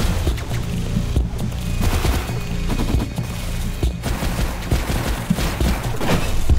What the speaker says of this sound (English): Oh, he does explosive shots?